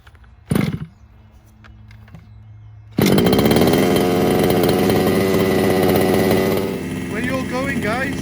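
Gas-powered Losi 5ive-T RC truck being pull-started with the choke on: a sharp pull or two, then the small two-stroke engine catches and runs loud and buzzy, close by, holding a steady high idle.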